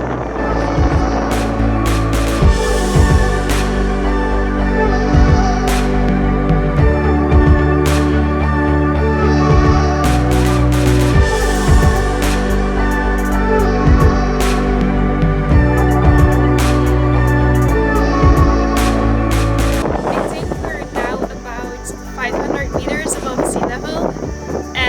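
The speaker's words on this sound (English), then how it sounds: "It's super windy, but not really cold." Strong gusty wind buffets the microphone on a hillside hike in Hokkaido, a loud continuous rumble throughout with music playing underneath, near and roaring.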